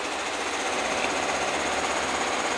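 An embroidery machine stitching a diamond design onto a duffle bag, giving off a steady, dense mechanical whir that runs unbroken and fairly close throughout.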